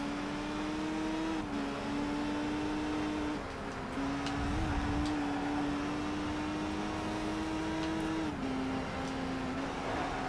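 Racing car engine in a PlayStation 2 race simulation game, a steady droning engine note that holds, dips and climbs with gear changes throughout, loud and continuous with no talk.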